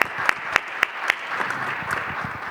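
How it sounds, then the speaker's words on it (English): Audience applause for a panel at a healthcare life-sciences conference: a burst of close, sharp claps in the first second or so, then settling into a steady, moderately loud patter of clapping from a seated crowd, with no talk over it. "please an applause for our panel"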